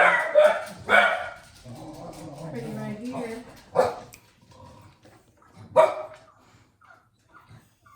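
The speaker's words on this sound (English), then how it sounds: "My doggy's barking at me." A dog barks sharply at close range several times in irregular bursts, mixed with a person talking nearby indoors.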